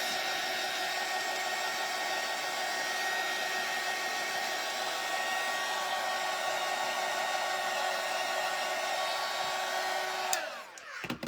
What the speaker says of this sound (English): let's use our heat tool here and get rid of those